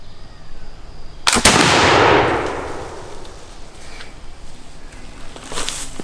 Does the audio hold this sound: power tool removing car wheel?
no